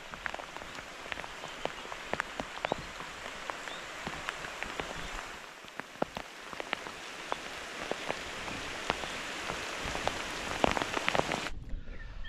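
Steady rain falls during a traditional fishing outing, a dense, even patter with many sharp droplet ticks spread throughout. The sound is continuous and close, with no voices.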